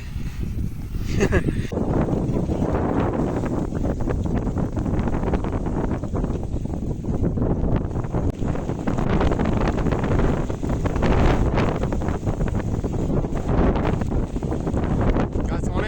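Strong wind buffets the microphone in a continuous, loud roar with gusty fluctuations, muffling everything else throughout.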